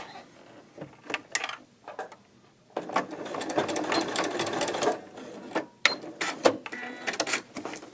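A sewing machine stitches a dolman sweater, running a short back-and-forth stitch in quick bursts, then a sustained mechanical whirring run, close and clear.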